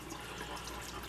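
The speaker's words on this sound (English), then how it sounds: "now that you open that filter up, the third chamber now will start filling with water" Water steadily fills the third chamber of a BRS 5-stage chloramines-plus RO/DI filter system, a continuous close hiss and trickle that holds even and unbroken throughout.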